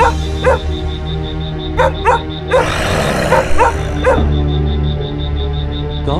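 Dogs at night near farm fields give several sharp barks and yips in short bursts, fairly close and loud, over a steady tonal background.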